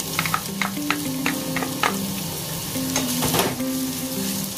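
Garlic and onions sauté in a hot pan with a continuous, close sizzle, broken by quick light clinks and scrapes of a stirring utensil. The frying stays steady throughout, with no voices.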